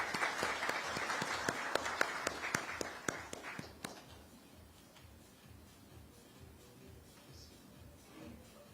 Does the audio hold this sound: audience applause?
yes